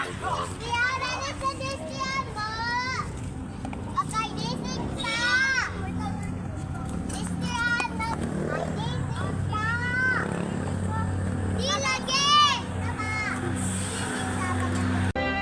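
Children shout, squeal and chatter while playing outdoors, their voices overlapping at various distances with a faint hum of traffic behind.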